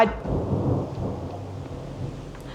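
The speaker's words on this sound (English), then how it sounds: "there's a storm." A thunderstorm with a deep thunder rumble that peaks early and slowly fades, over steady falling rain, moderately distant and fairly quiet.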